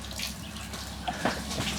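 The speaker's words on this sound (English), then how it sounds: "having a shower outside now" An outdoor shower runs on off-grid homestead land, giving a steady close spray of water with a few louder splashes and no talking.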